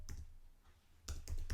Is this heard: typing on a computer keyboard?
yes